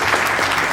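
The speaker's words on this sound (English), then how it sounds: "I think we all should have a big round of applause for Film Frenzy here." A crowd applauds at a film festival awards night, dense steady clapping that fills the brief moment at full loudness.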